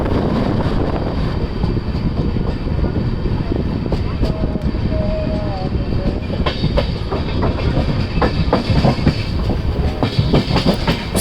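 Azimabad Express passenger train rolling steadily along rails near Kanpur, a loud continuous rumble with rhythmic wheel clicks and wind buffeting, heard from on board with no talking.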